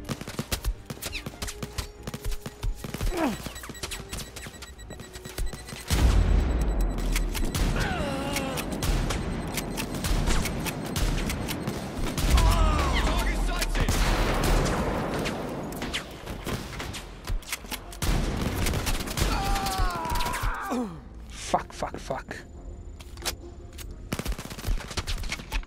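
Shotgun blasts and other gunfire in the VR shooter Blood & Truth, a dense run of loud, sharp bangs with booming low thumps in bursts, sometimes overlapping, set against game sounds and a spoken voice.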